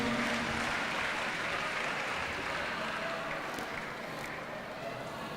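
An audience at a Maulid Nabi religious lecture in Jakarta claps together, a soft, distant patter of many hands that slowly thins out.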